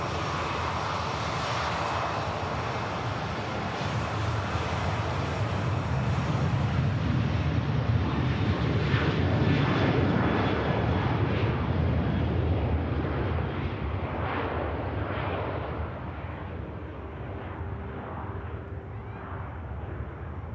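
Ryanair airliner rolling for takeoff at Manchester Airport, a loud sustained jet engine roar that swells and holds steady for about twenty seconds, with broad rumble and whine and no talking.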